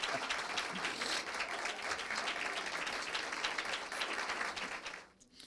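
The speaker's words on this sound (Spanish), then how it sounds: "Un fuerte aplauso para nuestro poeta Mateo Morrison" Audience at an international book fair breaks into sustained, dense applause that holds steady for several seconds, then quickly fades out.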